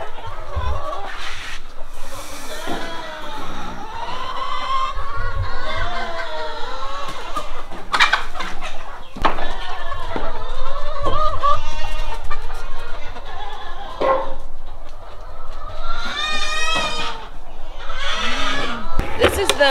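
Chickens cluck and squawk repeatedly at close range in a barn, with a person talking over much of it and outdoor farmyard noise around them.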